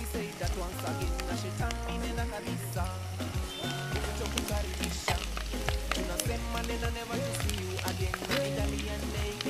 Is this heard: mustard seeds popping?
yes